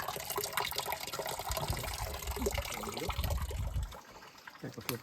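Water pump spraying a lawn, a continuous hissing, splashing rush of water that drops off near the end, with voices faintly present.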